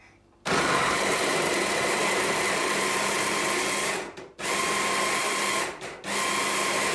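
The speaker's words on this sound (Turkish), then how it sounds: "şimdi blenderdan geçireceğiz" Kitchen blender pureeing apple into a fruit puree, a loud continuous motor whir that starts abruptly and runs steadily, with two brief pauses where the motor cuts out and then restarts.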